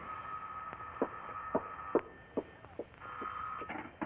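A telephone rings in an old-time radio detective drama, a steady electric ring sounding in two stretches, with sharp knocks or footsteps punctuating it at close range and no talk.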